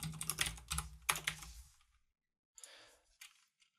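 A computer keyboard is typed on while code is entered. Quick bursts of clicking keystrokes come up close, then pause, then return as a few short, softer taps.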